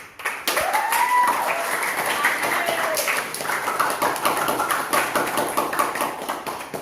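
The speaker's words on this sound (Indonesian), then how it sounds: "Tepuk tangan." Hands clap together in steady, continuous applause that carries for several seconds, as a classroom group responds during an Islamic religious education lesson.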